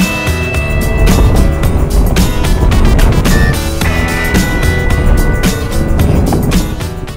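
A motorbike labours through soft, dry sand on a track in Tanzania, a loud, continuous engine drone with wind and rumble, steady throughout without speech.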